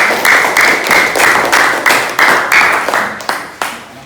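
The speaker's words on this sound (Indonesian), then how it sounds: "Silakan berikan aplaus kepada teman-temannya" Classroom applause for classmates, a small group clapping in steady rhythmic unison, close and loud, about a dozen even claps fading slightly toward the end.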